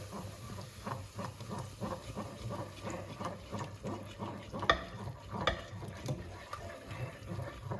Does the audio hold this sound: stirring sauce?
yes